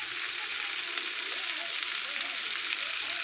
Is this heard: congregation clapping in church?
no